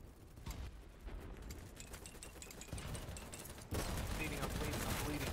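Grenade blasts and rapid gunfire in a combat video game, dense crackling bursts of shots layered under speech, growing louder toward the end.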